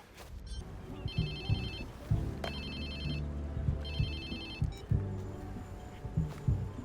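A mobile phone rings in the Watch Dogs 2 video game, repeated ring bursts of bright electronic tones sounding over game music and background ambience, with no talking.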